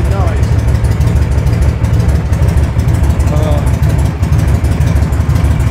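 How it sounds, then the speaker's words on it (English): A Victory V92C motorcycle engine idles close by with a steady, deep, loping rumble, continuous throughout and alone without talk. "this engine, man, it's on idle"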